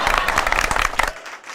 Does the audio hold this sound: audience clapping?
yes